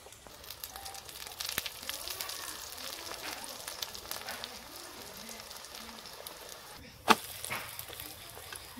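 A Spanish potato omelette frying in a pan while oil is spooned over the top, giving a soft steady crackle and sizzle with a sharp clink near the end, close by and with no voices.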